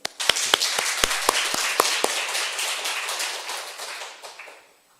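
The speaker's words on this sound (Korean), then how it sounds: "좋은 간증을 해주신 우리 정재현 집사님께 박수 한번" Applause from a church congregation during a New Year's Eve service: a few loud, distinct claps open into a swell of scattered clapping that fades out toward the end.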